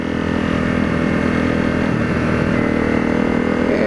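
Honda CRF250L motorcycle riding on a winter road, a steady mid-pitched engine drone with rushing wind and road noise, constant and loud throughout, no voices.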